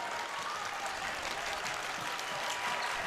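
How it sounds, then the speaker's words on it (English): A student section claps steadily at a high school boys basketball game, a dense, continuous wash of applause filling the gym with no clear pauses. "The clapping is coming alive."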